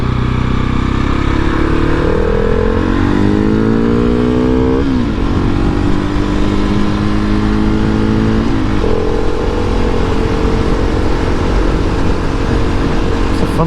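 A 2019 KTM 690 SMCR motorcycle's single-cylinder engine roars loudly and close while riding on a road, revs climbing through several gear shifts over wind rush, then holding a steady cruise.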